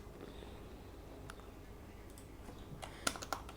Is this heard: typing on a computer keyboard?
yes